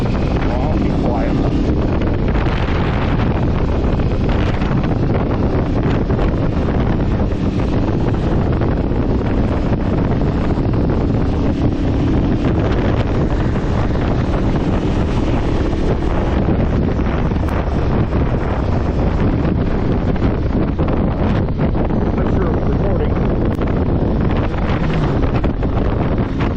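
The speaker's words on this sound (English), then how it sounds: "It is really windy." Loud, steady wind buffeting a microphone while riding an Aprilia Tuareg 660 motorcycle, a constant roaring rush with engine drone underneath, no talking.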